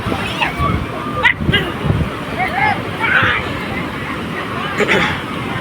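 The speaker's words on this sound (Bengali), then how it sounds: "দেখতে পাচ্ছেন কেমন ঢেউ দিচ্ছে এখানে।" Waves sloshing and splashing in surf at Puri beach amid a lively crowd of sea bathers' voices and shouts, the water rushing in repeated surges close by.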